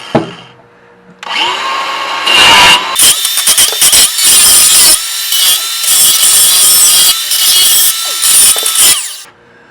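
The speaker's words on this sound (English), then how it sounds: "We're going to grind away." Angle grinder biting into the steel frame of a 2000 Chevy Silverado truck, starting with a short spin-up, then loud, harsh sustained grinding with bursts and brief dips as the disc bears down.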